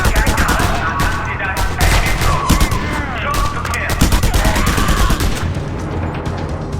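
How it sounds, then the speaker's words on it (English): Rapid bursts of mounted gun fire from the Just Cause 2 video game, dense and loud, with explosive booms and crashes layered through a busy game battle soundtrack, continuous throughout. "Curses! Another mounted gun!"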